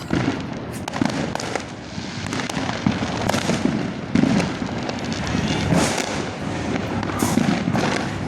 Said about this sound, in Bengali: কালী পুজোর চেয়ে বেশি বাজি, চতুর্দিকে বাজি বাজে, চতুর্দিকে।